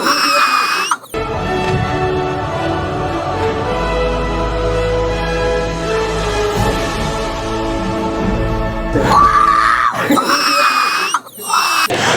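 A person imitates a dinosaur roar with a long, loud, strained scream-like cry lasting several seconds, flanked by brief bits of other voices.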